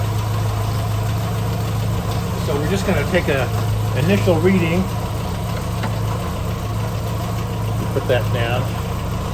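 A-Series engine fitted with an SU HS2 carburettor idling at operating temperature, a steady low rumble running continuously beneath someone talking close by.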